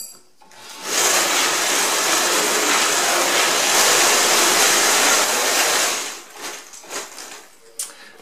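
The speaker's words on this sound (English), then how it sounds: "now you're ready to start tumbling" An LT-5 rotary brass tumbler runs loaded with brass cases and steel pins, giving a steady, dense rattling hiss that holds for several seconds and then breaks into uneven clattering bursts as it winds down.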